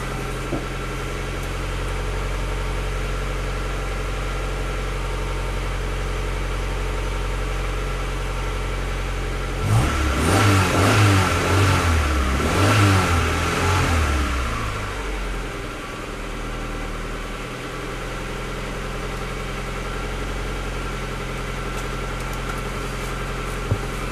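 Honda Civic EJ9 engine idling steadily up close, then revving up and down a few times in a loud burst before settling back to a smooth idle.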